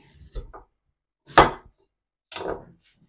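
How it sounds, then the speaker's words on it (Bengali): A knife chopping radish for lentil dal in a home kitchen, three separate cuts spaced about a second apart, each a short close thud with a crisp edge and silence between. "এই যে এখন মূলাটা কাটতে নেই"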